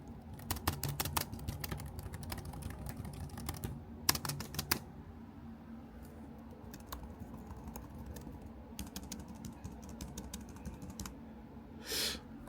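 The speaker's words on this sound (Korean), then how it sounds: "키보드, 그램 키보드, 이거를 빼고 좀 한번 타자를 쳐보겠습니다." Someone types on the keyboard of an LG Gram laptop, producing a steady stream of light, close clicks with short pauses and a few quicker bursts, over a low background hum.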